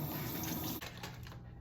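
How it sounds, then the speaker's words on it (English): Water runs steadily from a tap into a sink, a continuous broadband splashing rush at close range that drops slightly near the end, with no talking. "y'all gotta hear that water for like 5 seconds"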